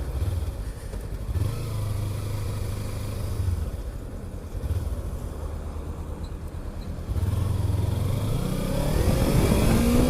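A motorcycle accelerating on a road, with its engine note rising and falling through the gears, loud and close under rushing wind noise.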